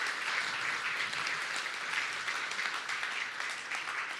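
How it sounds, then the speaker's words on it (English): Steady, dense applause from an audience at a Massachusetts Teachers Association forum, continuous and fairly loud across the whole stretch with no pauses. "Let's give everybody a round of applause."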